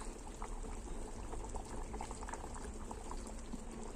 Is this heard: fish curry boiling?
yes